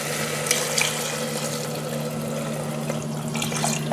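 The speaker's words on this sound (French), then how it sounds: "maintenant il faudra rajouter de l'eau" About 1.5 to 2 litres of water pour steadily into a pot of Moroccan harira soup after the mixture has been sautéed, a continuous close splashing stream over a low steady hum with a few brighter splashes, no talking.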